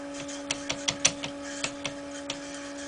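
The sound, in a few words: DIY 3D printer motor spinning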